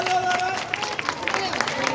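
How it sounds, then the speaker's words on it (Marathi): Applause and cheering from students at a school bucket ball game, a clattering crowd sound with scattered claps and babble filling the whole short moment, with a tonal whistle or voice at the start. "सर्वांनी टाळ्या वाजवा"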